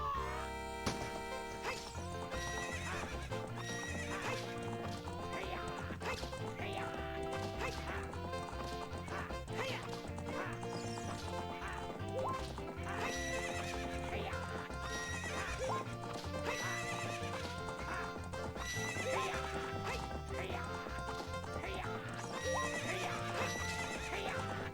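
Epona, the horse in Ocarina of Time, neighs and gallops, her whinnies and hoofbeats mixed into continuous loud game music across the whole stretch.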